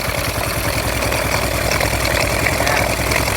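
Freshly restored carburetted engine running on its own at idle, a loud, close, continuous rumble with an even low throb and mechanical chatter, no voices over it.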